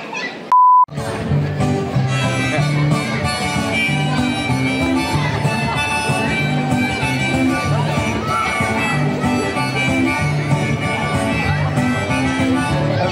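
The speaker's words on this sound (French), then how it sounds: "Il y aura un bip." A single short, flat censor beep cuts in near the start, then gives way to people talking over lively background sound.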